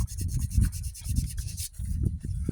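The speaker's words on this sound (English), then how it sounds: "Now let me clean that rotor just a little bit better." Someone cleans the distributor rotor of a 1971 Ford Torino, making brisk scraping and rubbing strokes in uneven bursts, close up, with no one speaking.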